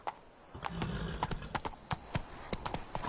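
Horse hooves clip-clopping in an uneven trot in The Witcher 3 video game, crisp distinct hoof strikes over a soft background.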